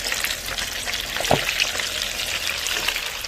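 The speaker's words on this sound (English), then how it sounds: "We are frying chicken out the door." Constant crackling sizzle of mustard-coated country fried chicken frying in hot oil outdoors, with a soft bump partway through and no talking.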